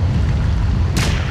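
A bomb flower explodes in The Legend of Zelda: The Wind Waker, a single sharp, slap-like crack that bursts in abruptly near the end over a loud low rumbling bed.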